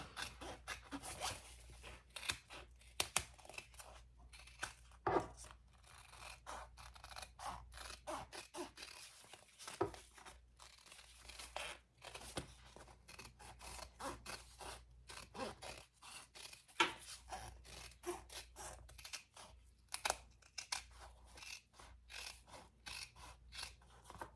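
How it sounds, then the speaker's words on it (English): Scissors trim hot pink fabric just outside a stitching line on a waist pack, making rapid, quiet snipping and sliding cuts in irregular bursts over about twenty seconds, close and with no talk. "Let me grab my scissors. And we'll just trim right outside that line."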